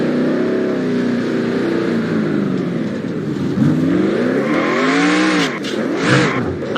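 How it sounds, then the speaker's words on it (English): A NASCAR race car in the NASCAR Racing 2003 video game does a burnout at turn 1 of Indianapolis, its engine revving up and down in loud sweeping waves, ending in a sharp tire squeal. "We're going to burn out turn 1"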